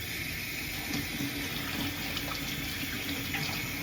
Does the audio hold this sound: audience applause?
no